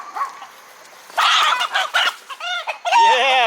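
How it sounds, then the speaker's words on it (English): Chickens cluck in short, loud bursts close by, several sharp, rising calls following one another in quick succession. "What you doing, chickens?"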